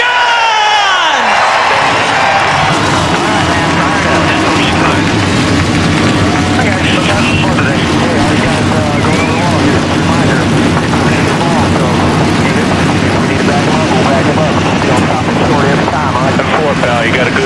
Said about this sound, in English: Engines have fired.